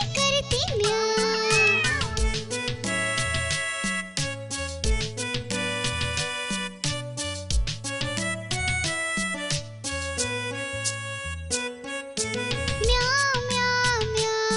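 A Hindi children's rhyme about a cat: sung meow imitations repeat rhythmically over bright, bouncy music, with a voice mimicking the cat's cry.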